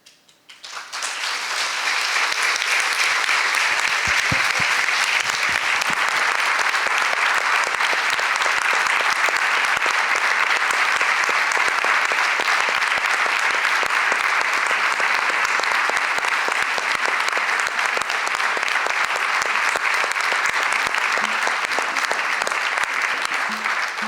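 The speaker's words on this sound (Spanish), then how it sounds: "este aplauso significa un final" Sustained audience applause fills a hall at a book presentation in Buenos Aires, dense steady clapping from a large crowd that swells in within a second and holds evenly for over twenty seconds.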